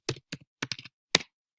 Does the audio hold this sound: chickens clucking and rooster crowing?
no